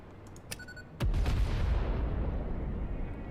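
A Cluster Nobelisk explosion in the video game Satisfactory: a sudden loud boom after a few light clicks, followed by a long, rumbling, crackling tail that slowly fades.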